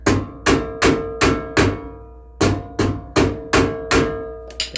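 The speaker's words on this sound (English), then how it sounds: "gotta tap them. I use a plastic hammer" Sharp, evenly spaced taps of a plastic hammer on a metal trailer hub bearing cap, about ten strikes with a short pause midway, close and ringing briefly after each hit.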